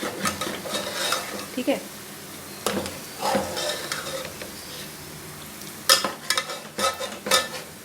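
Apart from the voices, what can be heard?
stirring food in a cooking pot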